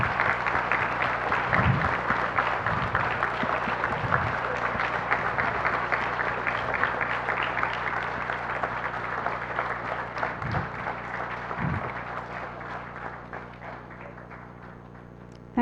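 Faculty and parents stand and applaud a new MBBS batch at a medical college ceremony, sustained dense clapping from a large indoor crowd that gradually tapers off.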